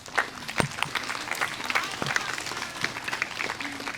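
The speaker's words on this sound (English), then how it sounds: "So give yourselves a round of applause" An elementary school spring concert audience claps in a scattered, lively round of applause, moderately loud and continuous for a few seconds.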